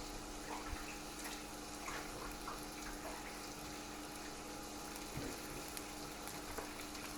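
A kitchen tap runs steadily as meat is washed off hands, a constant faint broadband hiss with small splashes, close but quiet, no voices.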